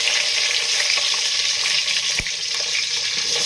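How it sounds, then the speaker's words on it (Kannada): Chana dal sizzles steadily in hot oil with a dense, bright frying hiss, close and constant, punctuated by one sharp utensil tap midway. "ಚೆನ್ನಾಗಿ ಫ್ರೈ ಮಾಡ್ಕೊಳ್ತಾ ಇದ್ದೀನಿ. ಕಡಲೆಬೇಳೆ ಫ್ರೈ ಆಗಿದೆ."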